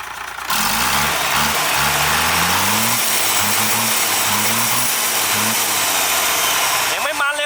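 An Isuzu 6HE1 turbo diesel engine, a 260-horsepower unit set up for installation, revs up and down several times, its pitch rising and falling over a loud, steady turbo whine.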